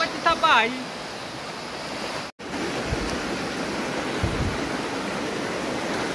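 Water of the Moi River rushes steadily near its headwaters, a dense, even wash that runs for the whole stretch. A brief voice sounds at the very start.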